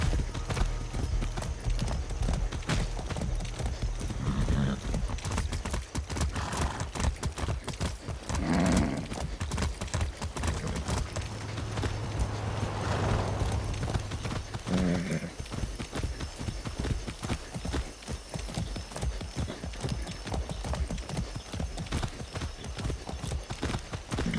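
A horse gallops in Far Cry 6 on Isla Santuario, its hooves clip-clopping in a steady, continuous rhythm through the whole stretch, loud and close, with occasional low game sounds underneath.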